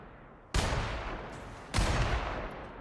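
Gunfire from the video game The Outer Worlds: two sharp, loud broadband blasts, each followed by a long rumbling decay, spaced about a second apart with no talk.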